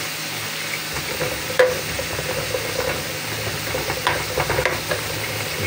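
Chili dropped into a hot frying pan while cooking sarsiadong tilapia, giving a steady close sizzle with scattered crackles and scraping stirs throughout, no talking.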